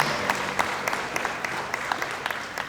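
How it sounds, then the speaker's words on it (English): Brief, light applause at a college honors night award ceremony, a thin scatter of individual claps over soft room noise, fairly faint and sparse rather than a full ovation. "1/3 round of applause"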